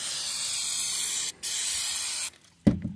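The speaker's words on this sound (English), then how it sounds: "Going to spray" Steady hissing spray from a spray bottle applying adhesive remover on a school bus, broken by a brief pause and resumed, then stopping; a light clunk follows at the end.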